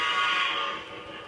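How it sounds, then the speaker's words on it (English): A model train whistle sounded from the High Rail app on a home layout gives a single sustained tonal blast, moderately loud and steady before tapering off, with no talking. "so we can blow the whistle some more"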